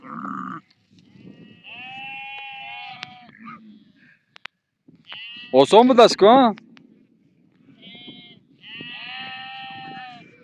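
Sheep bleat on shearing day in the Ziddi mountains, a loud burst of overlapping bleats in the middle with shorter calls before and after, while people talk over low background noise throughout.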